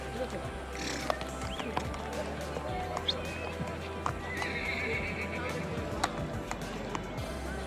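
Ponies walk with steady clip-clop hoofbeats and give a few whinnies at a mountain meadow trail near Sonmarg, Kashmir, over a constant outdoor background, with people talking nearby.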